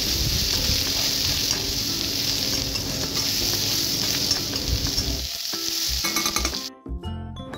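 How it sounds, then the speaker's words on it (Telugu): Capsicum pieces frying in a pan with turmeric and ginger-garlic paste, making a loud, dense, continuous sizzle with stirring scrapes that cuts out sharply near the end, leaving a few clinks. "ఇప్పుడు కట్ చేసి పెట్టుకున్న క్యాప్సికమ్ ముక్కలు వేసేసుకొని కాసేపు ఫ్రై చేసేసుకోవాలి."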